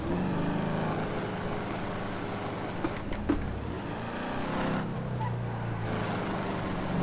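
A car engine in the FiveM driving game drones steadily under a downshift, with a slight rev change and a couple of faint clunks partway through. The sound is continuous and fairly loud, with no audible talking.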